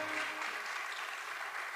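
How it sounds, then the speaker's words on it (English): Audience gives a short round of applause to welcome panel guests, soft, even clapping heard from a distance. "Please welcome them and give them a big round of applause."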